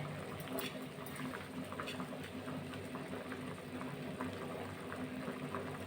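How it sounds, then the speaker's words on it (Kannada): Chickpeas (kadlekalu) boil in a pot for sambar, a steady close bubbling and gurgling that holds at an even, fairly soft level throughout. "ನೋಡಿ ಕಾಳು ಬೇಯ್ತಾ ಇದೆ"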